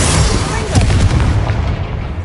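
Bombarda spell blasts in Hogwarts Legacy, a dense, loud booming explosion with a rumbling low end that sustains across the whole moment, followed by a slightly fading tail.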